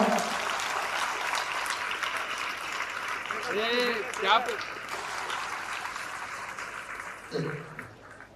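A crowd of schoolchildren and audience in Siddipet claps continuously in a steady wash of applause, while a voice speaks briefly over it midway through.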